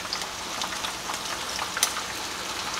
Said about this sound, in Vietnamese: Mua đậu hũ trắng này về mình chiên lại vậy nó giòn nó ngon nè.